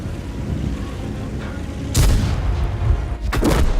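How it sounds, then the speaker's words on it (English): An Su-14 artillery shell explodes nearby in a video game, one loud booming blast followed by a second heavy impact a second later over a rumbling background. "the sheer size of the shell from the Su-14 is sufficient to finish me off"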